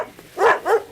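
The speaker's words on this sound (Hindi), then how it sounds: "अपने डॉग्स भी वही देख करके भौंक रहे हैं।" Dogs barking in a horror film scene, two loud close barks in quick succession after a faint yip, with no talk.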